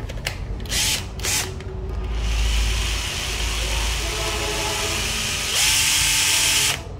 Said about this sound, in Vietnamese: Đây là cây khoan nha các bạn